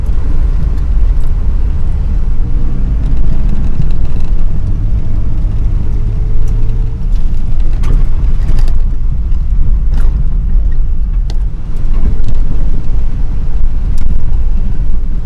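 A car engine rumbles steadily over a rough surface, with low road noise and occasional bumps and rattles throughout, no talking.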